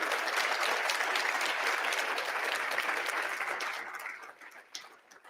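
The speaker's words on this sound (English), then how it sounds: "So a warm round of applause to Sushan and Rupert, please." Sustained applause from a sizable audience, steady and loud for several seconds before thinning out and fading near the end.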